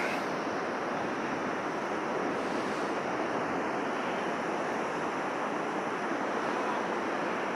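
Ocean waves break at the Jeffreys Bay surf break during a pro surfing contest, a steady, distant wash of surf with a wind-blown roar and no voices.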